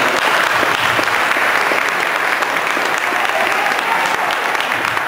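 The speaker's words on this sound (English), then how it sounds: "give a warm round of applause to our president" Loud, sustained applause from an alumni chapter kickoff audience at Roosevelt University in Chicago welcoming the president, a thick, even wash of many hands clapping throughout, up close and without pause.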